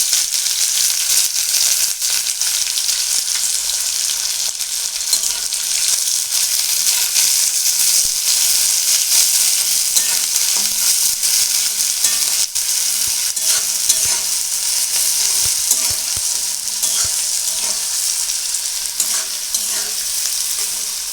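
Two large sliced onions fry in oil with dried chilli, bay leaf and a spoon of sugar for soybean tikka, sizzling loudly and continuously while a spatula stirs and scrapes the pan.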